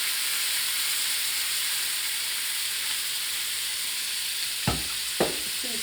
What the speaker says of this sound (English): I'm going to lower the heat and add in my eggs.